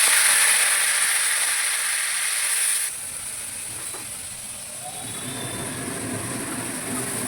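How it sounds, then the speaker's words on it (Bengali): Whole spices hit hot oil in a wok, giving a loud, steady sizzling hiss that settles to a softer, continuous frying crackle. "কড়াইয়ে দিয়ে দেবো এই যে গোটা মশলা, তেল গরম হয়ে গেছে, একটু ভেজে নেব"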